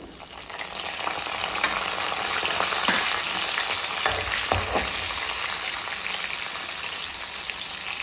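Chopped green chillies frying in a pan for vangibath give a steady, loud sizzle throughout, with a few soft stirring scrapes and no voices.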